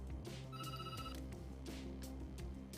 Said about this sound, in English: The phone rings, you take a step back.